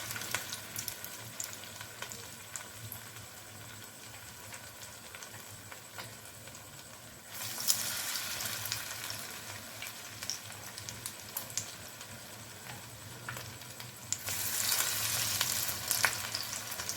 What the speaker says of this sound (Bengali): এবার মাছগুলোকে লাল লাল করে ভেজে নেব